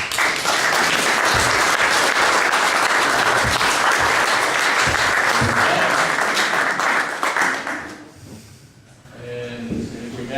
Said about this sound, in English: just applaud and give another round of applause to both of our panelists